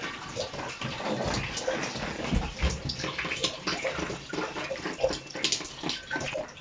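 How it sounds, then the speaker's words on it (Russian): Water streaming steadily down the walls inside a derelict, emergency-condition house, a continuous close rushing and splashing like a small waterfall that runs throughout without pause. "просто вода по стенам вот ровно бежит, как водопад везде"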